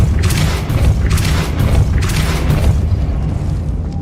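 Repeated Depulso spell blasts in the Hogwarts Legacy video game, three loud booming bursts roughly a second apart, each with a bright crackling edge over a heavy low rumble, fading into a lingering low drone.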